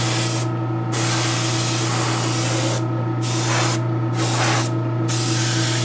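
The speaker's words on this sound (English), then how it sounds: "Like I'm spraying kind of heavy there, a little bit lighter over in here." Airbrush paint sprays onto a garage kit figure in a steady hiss, broken by several short pauses as the spraying stops and restarts, close and fairly loud with no talking.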